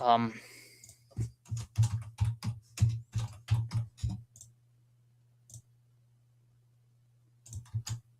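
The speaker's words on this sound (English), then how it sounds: "Let me type this name." Typing on a computer keyboard: a quick burst of about a dozen crisp key clicks, then a pause and a few more taps at the end, close and clear after a brief voice at the start.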